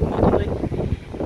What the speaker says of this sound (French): il y a un vent de fou, je sais pas si vous m'entendrez